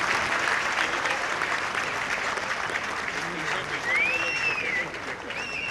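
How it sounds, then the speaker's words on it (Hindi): Loud audience applause fills a hockey tournament ceremony, sustained clapping throughout with crowd noise and a voice over it. "जरा जोरदार तालियां हो जाएं।"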